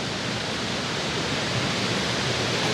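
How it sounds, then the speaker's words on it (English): Waterfall in Dean's Village, Edinburgh, a steady broad rush of falling water, continuous and fairly close, with no voices over it. "Even has a waterfall."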